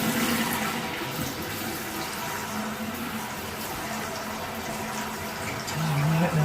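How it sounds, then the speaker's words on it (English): Water runs from a repaired household faucet with both hot and cold turned on, a steady close splashing rush into the sink that continues evenly throughout. "I'm gonna cut the water on and see what happens."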